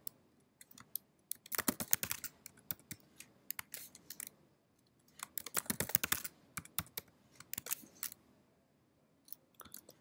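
Someone types a password on a computer keyboard while connecting to a Cisco ASA device over SSH. Two dense bursts of quick, close key clicks come with scattered single taps and short pauses between them, and no one talks.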